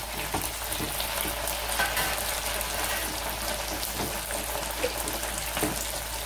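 Eggplant frying with onions in sesame oil for a Chettinad-style tamarind curry, a dense continuous sizzle with light stirring scrapes, close and even, with no one speaking.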